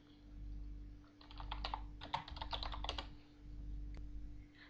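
Close, quiet bursts of typing on a computer keyboard, rapid key clicks in two short runs over a low steady hum, with no talking.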